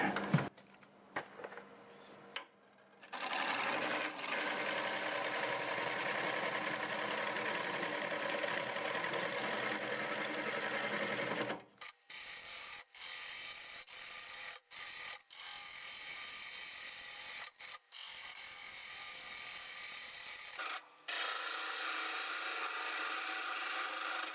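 A wood lathe turns an English walnut root ball while a gouge cuts it, giving a steady, close scraping and rasping drone. The tone shifts partway through, and brief dropouts break the cutting.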